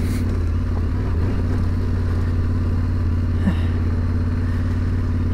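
A motorcycle rides over a rocky highland track in Iceland, its engine droning loud and steady throughout with clattering rattles over the stones and a brief knock near the middle.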